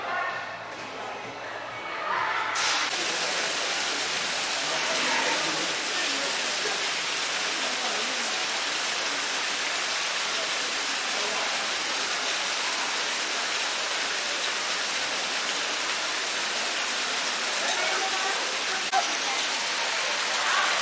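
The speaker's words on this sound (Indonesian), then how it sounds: "Ini hujan guys, aduh becek." Steady outdoor rainfall in Karanganyar, Central Java: a dense, even hiss of drops that starts abruptly after a quiet opening and continues unbroken for about twenty seconds.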